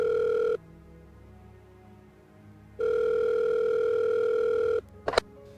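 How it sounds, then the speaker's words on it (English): Two long electronic ringback tones separated by a pause, steady and clear, followed by a brief click at the end. "It's ringing."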